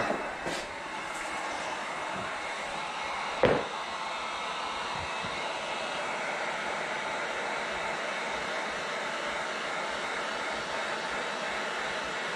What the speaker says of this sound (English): Let's grab our heat gun.